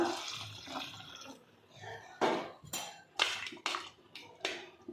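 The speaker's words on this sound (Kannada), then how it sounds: "ಈಗ ಇನ್ನೊಂದ್ಸರಿ ನಾನು ಇದಕ್ಕೆ ತಣ್ಣೀರು ಹಾಕ್ತಾ ಇದ್ದೀನಿ" Cold water poured over soya chunks in a bowl, with bursts of splashing and clattering from dish handling, several separate pours in close succession.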